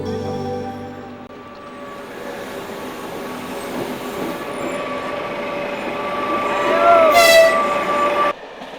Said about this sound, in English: The night train that left Tartus is now heading for Damascus